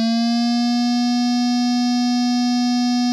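A bright, steady synth tone from Native Instruments Massive with rich even harmonics holds for about three seconds, a slight filter drop shaping its start, clean and alone.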